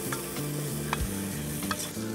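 Leeks and shallots sizzle in a hot pan while being stirred, a steady close frying hiss with occasional soft clicks of the utensil and no voices.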